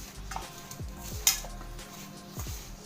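Spoon or spatula stirring a french fry coating of pepper powder, cornflour and maida in a metal bowl, with a few scraping sweeps and one sharp clink, close and fairly quiet.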